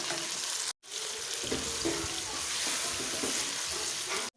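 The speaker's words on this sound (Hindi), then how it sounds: "अब इसमें हम टमाटर डाल देंगे और इसके साथ भी इसको अच्छे से फ्राई कर लेंगे।" Tomatoes fry in oil with garlic and ginger for a potato chicken curry, giving a loud, steady sizzle close up, with a few stirring scrapes and one brief break.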